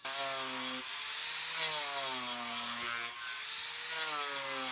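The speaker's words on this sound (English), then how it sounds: "It's basically carbide tipped saw blade, and I can just grind off the edge" A carbide-tipped saw blade grinding down the edge of outdoor locust floor boards on a treehouse, giving a continuous harsh whine that rises and falls in pitch over several strokes, close and steady.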